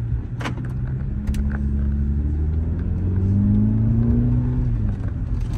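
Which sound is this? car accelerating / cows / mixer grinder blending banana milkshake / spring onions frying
car accelerating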